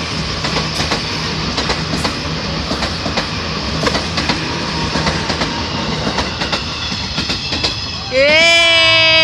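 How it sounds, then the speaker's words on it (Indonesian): Train passes close by with steady, rhythmic clacking of wheels and a rumbling roar, then ends with a loud, sustained horn blast; voices can be heard faintly at times. "Tuh dia, udah ada tuh kereta api."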